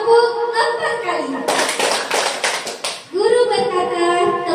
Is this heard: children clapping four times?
yes